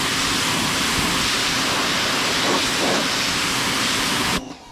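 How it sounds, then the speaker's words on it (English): A pressure washer rinses bleach off a beehive frame clamped down outdoors, a loud, steady spray hiss running without a break before cutting off abruptly near the end. "then I'm hitting it with my pressure washer"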